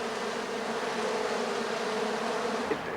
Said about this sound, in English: They're bees, and wow, did they chase?